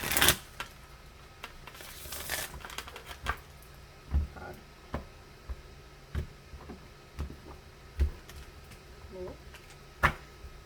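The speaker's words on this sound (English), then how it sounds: "A little quick shuffle here with these." Quick bursts of tarot cards being shuffled and riffled, followed by scattered soft taps and clicks of cards handled nearby, no talking.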